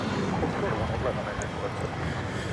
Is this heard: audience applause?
no